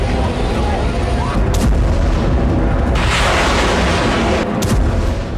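Rocket explosions and heavy blasts in Gaza during an intense barrage, a dense continuous roar with sharp bursts rising out of it, loud and close throughout.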